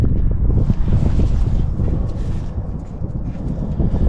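Strong, gusty wind buffeting the microphone, a loud continuous low rumble with rushing noise and no voices, outdoors during servicing of a Smart Fortwo 451.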